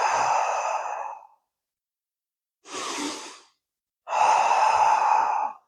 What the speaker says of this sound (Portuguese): É a respiração profunda.